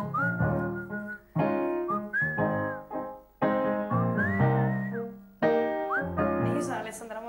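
Whistled melody carried within an Italian pop song performed on a TV talent show, the clear whistle line sliding in short phrases over sung vocals and backing music.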